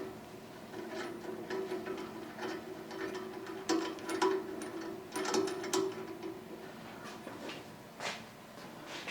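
Cleaned guide bearings on a bandsaw fitted with a carbide-tipped blade spin with a steady low whir and faint, regular ticking. Several louder mechanical clicks cut in now and then.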